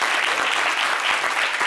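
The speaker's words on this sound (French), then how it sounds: "On va applaudir pour Muriel Blanche qui vient de donner naissance." Studio audience at a French-language talk show, a dense, steady wash of applause from many hands, loud and continuous for under two seconds, with no talk.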